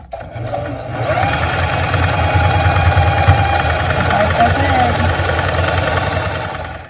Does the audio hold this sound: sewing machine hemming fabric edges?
yes